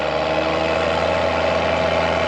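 A farm tractor engine drones steadily under load, loud and close, with a continuous low rumble and no break across the short span.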